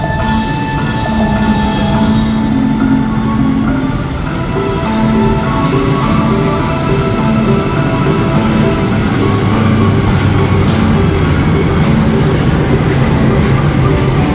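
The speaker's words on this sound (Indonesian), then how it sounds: "Itu ada kereta api Fajar Utama Jogja." Fajar Utama Jogja passenger train with a priority-class coach, hauled by locomotive 20402 from the Yogyakarta depot, rumbling steadily at a station platform, with a continuous low engine drone and sustained tonal hums.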